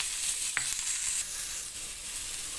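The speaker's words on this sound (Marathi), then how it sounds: "कांदा भाजून घ्यायचा तव्यामध्ये घालून." Onion roasts with a little oil on a tava as part of preparing a black masala. A soft, steady sizzle stays close and fairly quiet, with a faint clink early on.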